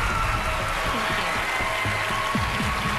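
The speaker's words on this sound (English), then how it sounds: "let's all give her an enormous round of applause as she goes off" Applause from a TV talent show studio audience, dense and steady clapping at close range that fills the whole moment, with faint crowd voices mixed in.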